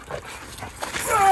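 A brief moment of dogs nearby, a quick bark and whimpering against rustling outdoor noise.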